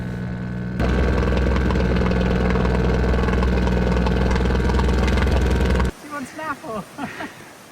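Canal boat petrol engine running loud and close as a steady throbbing drone for about five seconds, then cutting off abruptly to quieter sounds.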